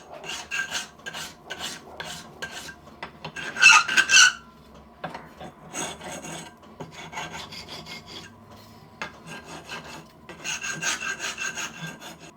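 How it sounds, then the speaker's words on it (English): A hand file rasping on metal while fitting a DRO onto a lathe tailstock, with bursts of back-and-forth strokes, some quick and rhythmic, separated by short pauses, close and fairly loud. "A little bit of DRO work with a file."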